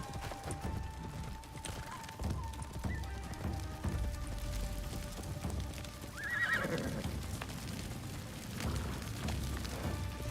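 A horse whinnies loudly around the middle, with clip-clopping hooves and game-like background noise throughout, in Assassin's Creed Shadows.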